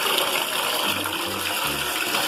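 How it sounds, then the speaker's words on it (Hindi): Water gushes loudly and steadily from a tap into a washroom tub filling for a bath, a close, continuous rushing stream. "पानी भर जाए जल्दी से।"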